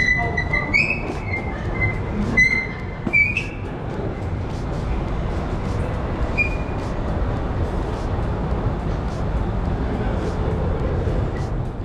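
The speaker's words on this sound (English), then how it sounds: "at the train station now" A train rumbles through a railway station in the Dominican Republic with metallic wheel squeals and screeches near the start, a steady loud clatter continuing throughout.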